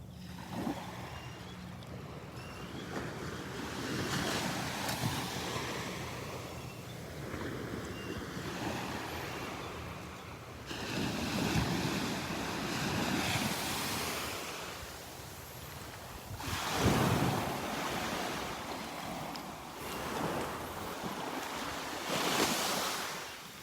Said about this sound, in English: A little lull in the waves.